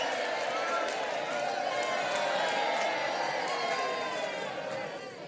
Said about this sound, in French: du coup, on applaudit